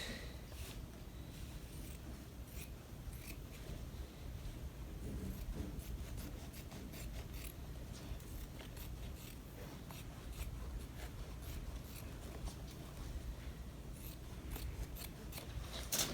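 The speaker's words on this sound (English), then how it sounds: "So then we will cut that out." Scissors snipping steadily through fabric for a homemade face mask with a filter pocket, close and continuous, with repeated blade closes and cloth rustle over about sixteen seconds, no talking.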